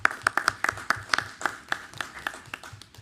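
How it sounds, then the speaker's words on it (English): Audience applauding award recipients at a school board meeting, a scattered crowd of distinct claps that thins out and fades over a few seconds. "So a round of applause to all of our ISLE Award recipients."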